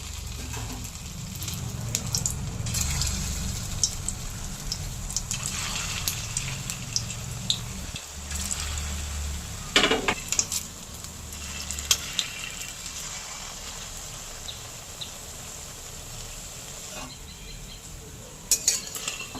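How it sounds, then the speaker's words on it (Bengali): Chhena (paneer) koftas frying in hot white oil with a little ghee, a continuous close sizzle with occasional clinks and scrapes of a utensil against the pan. "এবারে কোপ্তাগুলো ভেজে নেব।"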